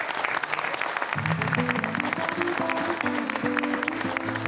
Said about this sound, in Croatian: podivljate ovaj veliki aplauz i Neda Ukraden